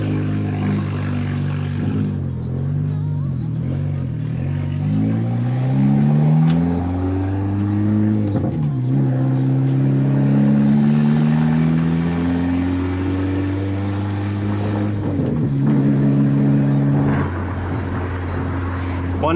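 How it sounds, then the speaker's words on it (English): A car engine revs up and down repeatedly at a car wash, rising and falling pitch sweeps with a throaty exhaust, loud and close. "this car sounds so good for some reason"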